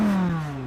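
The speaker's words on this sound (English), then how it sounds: "Now this is sport." Audi R8 GT V10 exhaust in sport mode, a loud, close, steady engine drone with a slight pitch drop in one brief burst.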